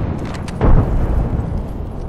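A frag grenade blast in Apex Legends, one loud low boom that rolls out beneath steady game noise, preceded by faint clicks, no speech.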